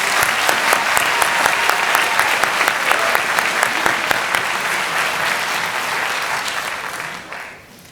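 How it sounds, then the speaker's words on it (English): A graduating-class audience at a senior awards and cording ceremony claps in sustained, dense applause that tapers off over the final second. "I just want to give Nick and everyone who worked on it one last round of applause for this"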